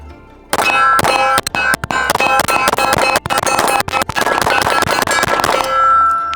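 A Phoenix Trinity Lo Pro pistol fires 124-grain Staccato range ammo in a rapid string of loud, sharp shots with ringing metallic clangs, close and continuous for about five seconds with no talking.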